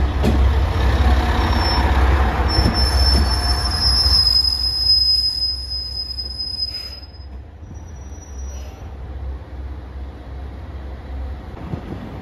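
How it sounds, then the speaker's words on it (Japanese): A JR Shikoku 1500 series diesel railcar pulls into Tokushima Station, its wheels and brakes giving a high, sustained squeal over a low engine rumble that fades as the train slows to a stop. "徳島駅11時51分着当駅止まりワンマン2番ホームです"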